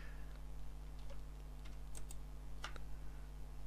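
Keys on a computer keyboard click a few times while a shortcut is pressed with a left mouse click. The taps are soft and sparse over a steady electrical hum.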